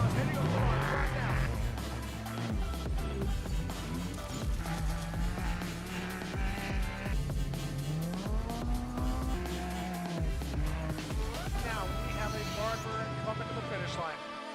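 Off-road race cars at the Baja 400 rev loudly at the start line, with engines roaring and tires scrabbling continuously under an excited commentator's voice.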